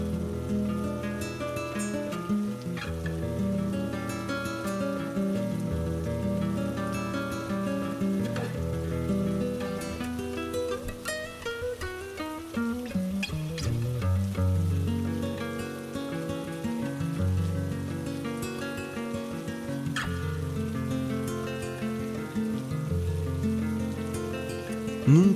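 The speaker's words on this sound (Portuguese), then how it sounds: "A chuva caía forte." Heavy rain falls steadily beneath a bed of music, a continuous wash of drops lasting the whole stretch without pause.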